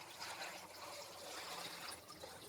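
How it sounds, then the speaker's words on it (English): Water poured into a stock pot filled with herbs, vegetables and smashed garlic cloves, a soft continuous trickling gush, close and fairly quiet, with no talk over it. "All we gotta do is top this off with some water."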